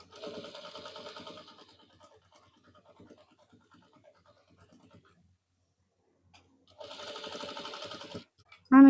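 A sewing machine stitches the corner of a blouse back neck in two loud close bursts of rapid, even needle chatter, with a quiet pause between them and a brief sharp noise at the very end.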